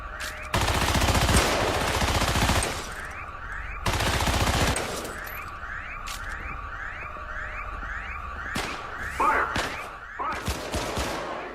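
Defense turrets in the Syndicate video game fire on security forces in long, loud rapid-fire bursts, broken by pauses and repeated short volleys, with a rising electronic alarm-like tone underneath.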